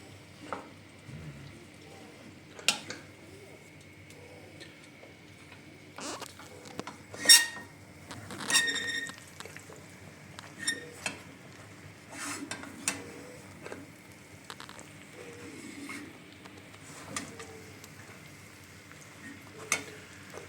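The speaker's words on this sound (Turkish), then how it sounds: "Ekmeği kavuruyoruz işte yağda" Bread is stirred and fried in butter and oil in a pan for pisi, a traditional Hasankeyf dish, with scattered scraping and knocking of a utensil against the pan over a faint sizzle, close and fairly quiet, with brief speech.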